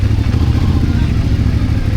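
A new CFMOTO 450MT motorcycle is ridden off-road in a quarry, its engine giving a loud, close, steady throb with some clatter and wind, as someone talks over it.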